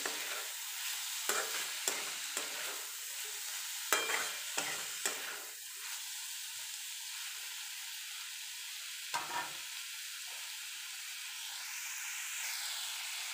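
Chopped tomatoes and onions sauté and sizzle in a pan while a spoon scrapes and stirs in irregular bursts, a steady frying hiss running underneath throughout.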